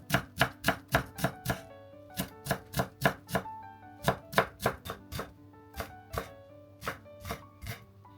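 A knife chops a Japanese leek (negi) finely on a board, a crisp run of evenly spaced close taps in quick bursts, with no talking.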